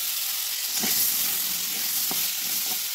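Potatoes and eggplant fry in mustard oil with cumin seeds, a steady bright sizzle with a few sharp crackles and spatters, close and alone without talk.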